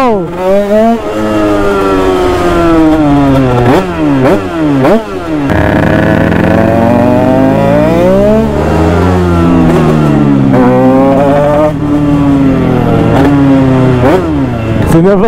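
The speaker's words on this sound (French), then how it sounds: "Ah le bruit, par contre, j'ai l'impression de la moto." A motorcycle engine revs repeatedly, rising and falling in pitch, loud and close, with a sustained high-revving stretch in the middle.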